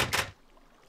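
A Minecraft door in Tekkit Classic gives two quick, close knocks as it swings shut and open, then falls quiet.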